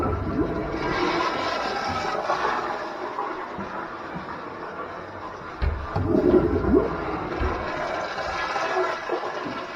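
A school restroom toilet flushes with a steady rushing, gurgling roar of water that swells briefly midway, heard up close in an echoey room.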